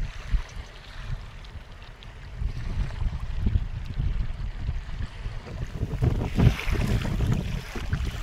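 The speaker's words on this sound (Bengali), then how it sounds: "নৌকায় জল তুলে দিচ্ছে ঢেউতে" River waves slap against and splash into a small fishing boat in bad weather, with steady wind buffeting the microphone and surges of water rising toward the end.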